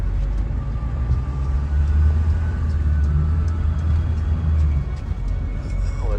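A 7.3L truck engine rumbles loud and steady while the vehicle backs up on slick, slippery ground, a low continuous drone with no talking.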